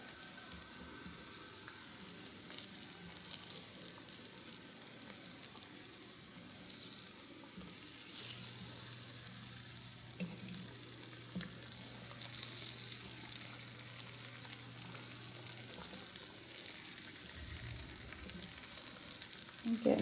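Potatoes sizzle and fry steadily in a pan during a Sunday dinner cook, a continuous close hiss with faint crackles and no talking.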